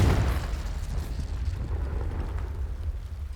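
A Confringo explosive spell goes off in Hogwarts Legacy, a loud booming blast with a heavy low rumble that rolls on steadily for a few seconds with no voices.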